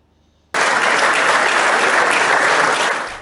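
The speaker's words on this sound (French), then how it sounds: "Tonnerre d'applaudissements pour saluer une carrière politique" Thunderous applause from a large crowd honoring a politician's career at a ceremony, bursting in suddenly after a brief quiet and holding steady and dense before starting to ease at the end.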